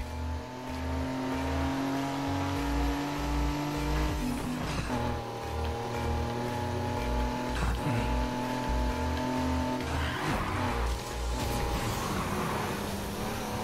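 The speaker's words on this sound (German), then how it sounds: "Schön mit Nitro gedriftet" Race car drifting with nitro in Need for Speed Heat, a steady loud engine drone with rhythmic pulsing and rising revs, broken by a few short whooshing bursts over continuous motor noise.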